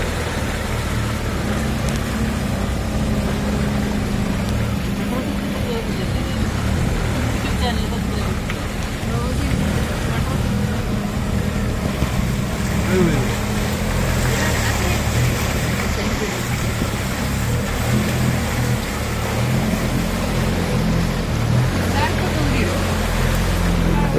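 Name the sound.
boat ride through mangrove forest at Poovar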